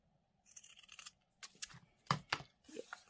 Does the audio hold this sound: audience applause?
no